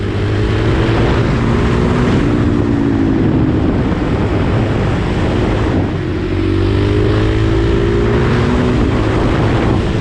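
A Kawasaki KLX450R 450 supermoto motorcycle rides on dirt roads, its single-cylinder engine droning loud and close with rising revs through gear changes, a brief dip midway before pulling again.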